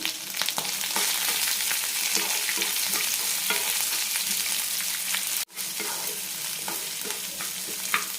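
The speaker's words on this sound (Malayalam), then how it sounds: "സവാള ട്രാൻസ്പാരൻ്റ് ആകുന്നവരെ വഴറ്റിയെടുക്കണം" Long-sliced onions with garlic, green chili and curry leaves sautéing in a pan for a horse gram chutney, giving a loud, steady sizzle and crackle with occasional stirring scrapes, close up and without talk.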